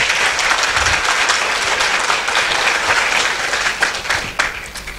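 An audience applauds loudly and steadily, many hands clapping at once in a dense wash that thins slightly toward the end.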